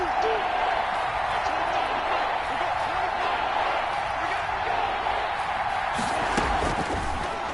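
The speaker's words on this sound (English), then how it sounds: "How about some applause for the defense there?" Stadium crowd noise in a PS4 American football video game, a steady loud roar of cheering and applause filling the whole stretch, swelling slightly near the end.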